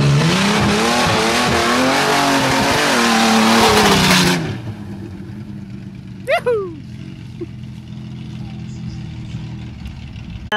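Off-road 4x4 truck engine revs hard and loud for about four seconds, then cuts off, leaving quieter background noise with a brief squeal and a short voice.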